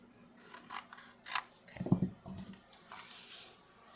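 Scissors cutting paper at an angle for a handmade paper gift bag, giving a few crisp snips with a low handling rustle in the middle, quiet and close.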